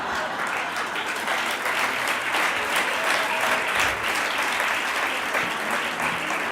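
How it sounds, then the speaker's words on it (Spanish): Sustained audience ovation at a lecture, dense continuous applause holding steady at a loud level for several seconds with no speech over it. "Con una ovación como esta casi, y con una sonrisa de oreja a oreja"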